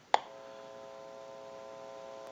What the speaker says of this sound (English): You may hear a little bit of an electrical hum.